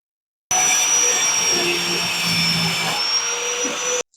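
Angle grinder cutting steel on a Ford 9 inch rear axle housing being narrowed, a loud steady whine with a high tone running continuously for about three and a half seconds.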